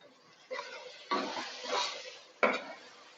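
Masala for chicken biryani sizzles in a pan, with three or four quiet bursts of stirring and scraping in short strokes, and no speech.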